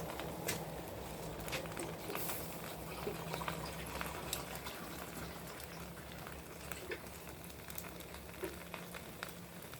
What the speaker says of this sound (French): On va remettre de l'eau dans la casserole pour que ça chauffe.